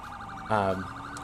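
A video game police car's wailing siren cycles steadily, with a brief louder electronic yelp blaring over it partway through.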